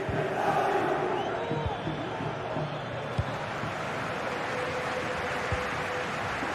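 Distant crowd cheering and roaring in a GT Sport racing league broadcast, a broad steady wash of noise that swells slightly at the start and then holds level, with a few faint thumps.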